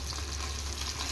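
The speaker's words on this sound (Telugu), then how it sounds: "మీడియం ఫ్లేమ్ పెట్టి ఫ్రై చేసుకోండి." Pieces of fish sizzle and crackle in hot oil over a medium flame, a steady close frying hiss with no pauses or voices.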